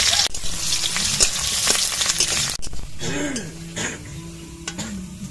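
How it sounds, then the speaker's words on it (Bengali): Chopped onions fry in hot mustard oil with a bright, crackling sizzle that dies down partway, followed by quieter stirring and a brief throat-clearing sound nearby. "প্রথমে আগে পেঁয়াজ বেরেস্তা ভেজে নেব। দিয়ে দেবো পেঁয়াজ কুচি।"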